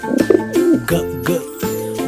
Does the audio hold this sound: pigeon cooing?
yes